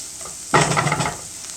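A bowlful of finely chopped onion hits a hot pan, bursting into a sudden close sizzle and clatter that settles into a steady crackle over about a second.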